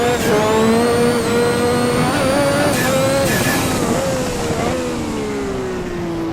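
A turbocharged 1250hp formula car engine at Adelaide holds a high, sustained whine with shifting pitch and brief surges, loud and continuous throughout, with a slight drop in pitch toward the end.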